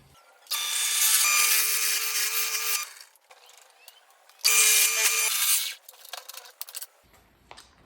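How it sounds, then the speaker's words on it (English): Two long bursts of drilling, each lasting a few seconds, loud and close, with a pause between and a few small clicks and scrapes afterward. "let's drill"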